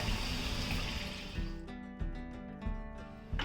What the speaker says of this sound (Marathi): जे आपण नारळाचं दूध करून ठेवलं होतं ना पूर्ण दूध टाकूया आपण नारळाचं